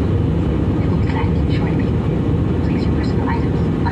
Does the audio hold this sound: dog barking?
no